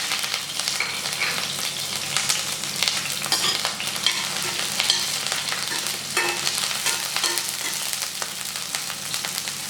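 Green chillies fry and sizzle in hot sesame oil in a pan for a prawn fry, a continuous dense crackling hiss with occasional stirring scrapes.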